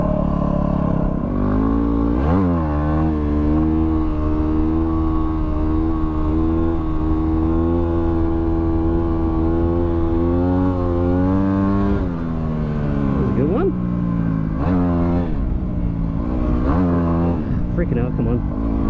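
A WR250R dirt motorcycle revs hard as its rider tries to lift a wheelie on rocks along a soft desert track. The engine drone is loud and close and holds steady, with sharp revving surges rising in pitch several times.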